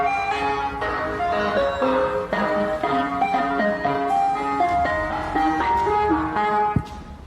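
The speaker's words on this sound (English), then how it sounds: "this Yankee Doodle was blaring outside your window in the darkness of night" An ice cream truck plays a chiming electronic Yankee Doodle loudly and steadily at night, the jingle repeating with no voices over it.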